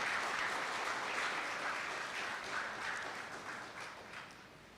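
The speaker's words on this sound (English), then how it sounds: "a solid round of applause as we congratulate them" A steady round of audience applause at a climate change centre rebrand launch, dense clapping from a moderate distance that gradually thins and fades toward the end.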